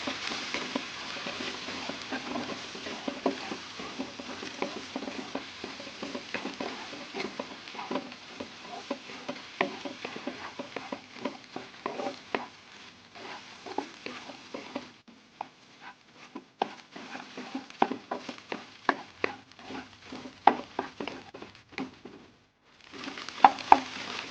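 A spoon or spatula scrapes and stirs Korean egg fried rice with mushroom broth in a frying pan, giving a busy run of clicks and scrapes over a faint sizzle, with brief pauses near the end.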